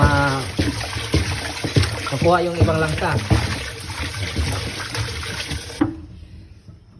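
Running water splashes and gurgles steadily while someone scrubs, with a voice talking briefly over it before the water abruptly cuts off.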